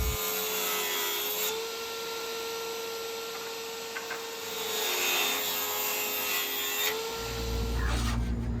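Timber being cut with a saw during a boat bulkhead repair, a steady buzzing, rasping cut that runs continuously with a brief change in pitch near the end.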